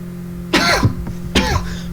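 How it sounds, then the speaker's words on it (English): Two loud, close throat-clearing coughs, each a short harsh burst, about a second apart. "cough wasn't so bad."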